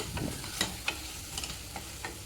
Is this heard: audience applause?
no